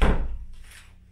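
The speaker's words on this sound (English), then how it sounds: "So you can close that in the door," A door thumps shut on a TheraBand resistance band: one low, dull thud that decays quickly, followed by a faint soft rustle.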